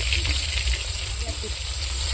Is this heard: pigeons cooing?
no